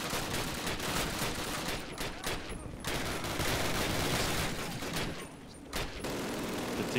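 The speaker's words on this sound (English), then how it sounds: "Still an MG42 right around the corner." Sustained bursts of MG42 machine gun fire in Call of Duty, rapid dense volleys filling nearly the whole stretch with two brief pauses, loud and close.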